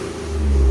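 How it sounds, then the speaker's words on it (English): 2019 Ford Raptor with a 3.5L twin-turbo V6, a short, loud, close engine rev rising in pitch and volume over under a second. "let me give you guys sound decibels with it revving."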